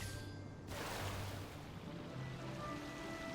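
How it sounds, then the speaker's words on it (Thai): A boat glides across open sea in Genshin Impact, giving a steady, soft wash of water and surf with a faint airy hiss throughout and no talking. "มันจะให้เราล่องเรือนะครับ แล้วก็ไล่เก็บที่มันลอยอยู่กลางทะเลนะครับ"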